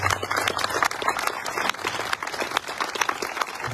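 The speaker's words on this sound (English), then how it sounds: "Another round of applause." An outdoor crowd applauding at a July Fourth reading of the Declaration of Independence, a dense, continuous spatter of clapping at moderate distance, holding steady without a break.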